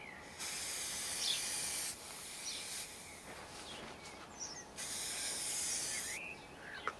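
Aerosol can spraying clear lacquer onto a Bentley-style car grille; several bursts of hissing spray, each a second or so long, with short pauses between, close and moderately loud, no talking.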